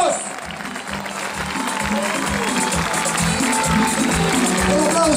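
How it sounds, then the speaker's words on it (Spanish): Audience clapping fills an outdoor summer show, Verano Río Bueno 2014, as comedian Bombo Fica is applauded: a dense, steady wash of hands with music and a voice over it, holding loud for about five seconds. "El aplauso cariñoso para el señor Bombo Fica"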